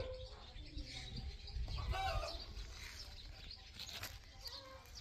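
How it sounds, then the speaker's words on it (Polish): Hens clucking in a backyard chicken coop near a vegetable garden, faint and distant under steady outdoor background noise, with soft bird-like calls scattered through the five seconds. "Kury gdaczą, To chyba Edziu się tam dobrze spisał w kurn"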